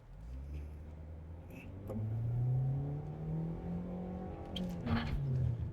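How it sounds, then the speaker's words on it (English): A 2025 Kia K4 EX accelerates off the line in an empty parking lot, its engine note rising steadily from a low drone into a higher whir, heard from inside the cabin at moderate level. "We do off-the-line acceleration."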